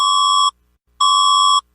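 An emergency alert system alarm tone: two identical loud, steady electronic beeps about half a second each, separated by a brief silent gap, sounding alone.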